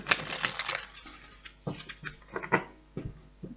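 Oracle cards shuffled by hand at close range, a run of quick papery riffles and soft flicking bursts with brief pauses between them, heard alone without any talking.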